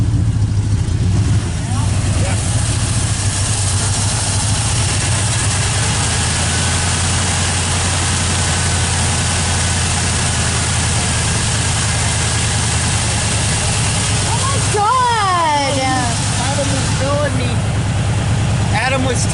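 A heavy, freshly rebuilt Ford truck engine idles with a steady, low rumbling hum throughout; a voice briefly cuts in near the end.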